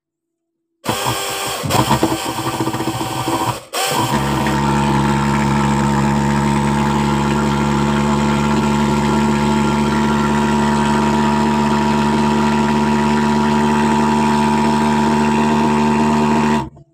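An insect fogging machine's engine sputtering through a couple of short start attempts, then catching and running at a loud, steady, buzzing idle for over ten seconds.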